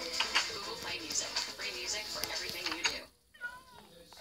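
A cat meows in Minecraft, several short mewing calls over busy game sounds and background voices, followed by a brief quiet gap and a few more small calls near the end.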